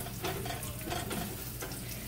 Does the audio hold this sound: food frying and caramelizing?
yes